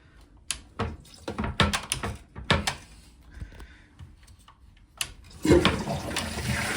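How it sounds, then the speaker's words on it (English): A toilet set to short flush is worked with a few clunks and knocks at the handle and tank, then a close, brief rushing swirl of water, moderately loud with no talking. "There you go, there's short flush."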